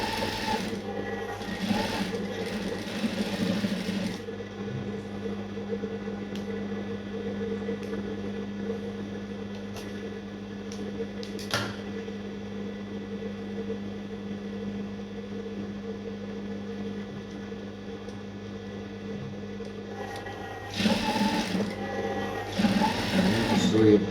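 A sewing machine stitching the pocket cap onto cargo pants, running steadily with a continuous whirring hum for about twenty seconds, close and loud, stopping briefly before starting again at the end.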